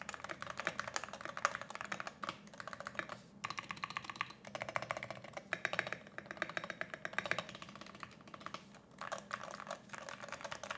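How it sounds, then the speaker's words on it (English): Steady, rapid typing on an Arbiter Studio Polar 65 magnetic-switch keyboard with soft, muted keystrokes in quick bursts, close to the listener, with brief pauses between runs. "just comparing the sound of this keyboard"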